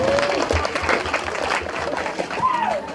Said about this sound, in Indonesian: Tepuk tangan kanggo sadaya.